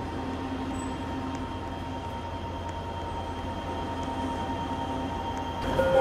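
A 1995 Bombardier ITCS Mark 1 SkyTrain on the Expo Line running toward Waterfront, heard from inside as a steady rumbling hum with faint tonal whine, rising slightly near the end.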